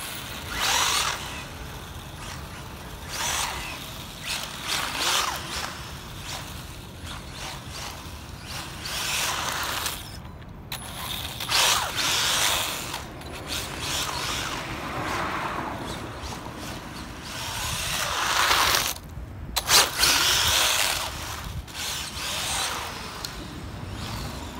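A Tamiya Avante brushless RC car is driven, its electric motor whining and rising and falling in pitch through repeated passes, with two brief cutouts, steady and moderately loud at mid distance.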